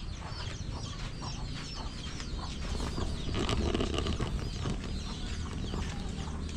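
Hens cluck steadily inside a crowded coop, with overlapping calls and occasional wing flaps forming a busy, continuous farmyard din.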